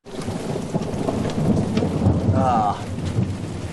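Steady heavy rainfall fills the scene throughout, with deep thunder rumbling underneath and a brief rising tonal swell partway through, loud and close with no voices.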